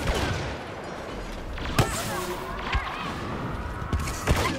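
A minigun fires in the video game Star Wars Battlefront: a dense, continuous roar of rapid gunfire with a few sharper blasts and shots cutting through, loud and close amid the battle noise.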